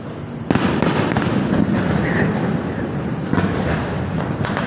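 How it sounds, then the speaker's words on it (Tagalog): Fireworks crackle and pop continuously in a dense, noisy barrage, with a few louder bangs standing out, moderately distant. "Paputok talaga."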